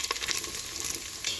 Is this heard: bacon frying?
yes